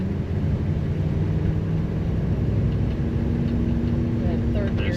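A GMC truck engine pulls up through the gears, a loud, steady low rumble close by with a gradual rise in pitch as it accelerates, continuous throughout with no clear breaks.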